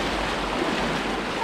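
A strong mountain river current rushing among big rocks: a loud, steady broadband roar of churning water close by, with no pauses and no talking.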